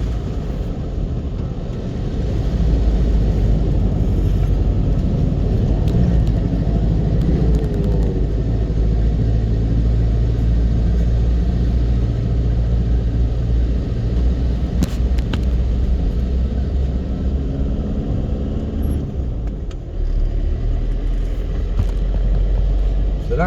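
Isuzu D-Max pickup truck wading through deep floodwater, a steady loud low engine rumble with continuous water wash and splashing around the wheels, sustained throughout at close range.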